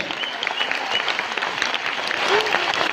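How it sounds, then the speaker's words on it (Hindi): An audience at an indoor programme gives steady, dense applause that stays loud and full for the whole stretch, with a faint voice or two mixed into the clapping. "मैं चाहूंगा कि अपने लिए एक बार जोरदार ताली दिल से बजाइए"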